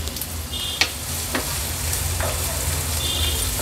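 Onion sautéing in oil in a pan over a medium flame gives a steady, close sizzle throughout, with a few soft clicks and scrapes of stirring.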